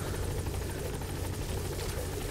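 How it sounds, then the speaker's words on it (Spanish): A helicopter arrives in the video game Metal Gear Solid V: The Phantom Pain, its rotor thump and engine roar filling a continuous, fairly loud wash with no talk over it. "Ya está aquí el helicóptero"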